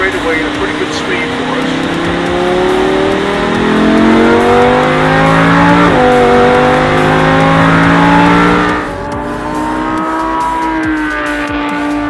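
A Lamborghini Huracan engine revs hard on a race track in Las Vegas, loud and close with rising and falling pitch sweeps through gear changes, then dropping to a lower steady drone; a voice speaks briefly beneath the engine.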